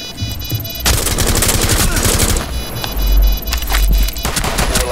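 Rapid automatic gunfire from the video game Rainbow Six Siege, loud bursts of dense crackling shots in quick succession, with a brief lull before more firing resumes.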